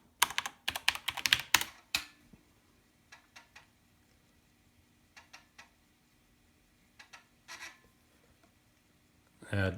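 Rapid keystrokes on an SWTPC 6800 computer terminal keyboard come in a dense burst at first, then thin out into scattered short clusters of clicks, close and clear, with a heavier sound at the very end.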